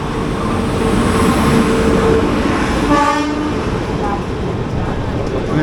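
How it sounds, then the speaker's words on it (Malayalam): Shatabdi Express train passing close by on an adjacent track, a loud continuous rumble with rail clatter and a brief horn-like tonal sound in the middle, heard from inside another moving train. "പറഞ്ഞ പോലെ തന്നെ ശതാബ്ദി എക്സ്പ്രസ് കയറി പോകുന്നു"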